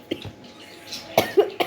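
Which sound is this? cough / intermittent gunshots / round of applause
cough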